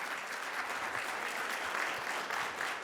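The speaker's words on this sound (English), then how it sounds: "Let's give the panel a big round of applause again" Audience applause for a panel at a community celebration event, a dense steady wash of many hands clapping together, loud and sustained with no voices over it.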